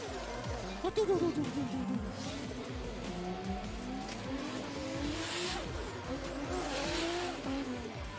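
A turbocharged drift car on a D1GP race track in Malaysia, engine revving and whining through slides with tire squeal, moving past at a distance while a commentator talks over it.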